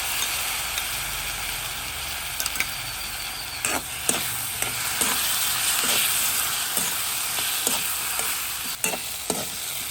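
Eggplant sautéing in a pan for an eggplant stir-fry, a steady close sizzle and hiss with scattered sharp clicks of a utensil stirring and scraping throughout.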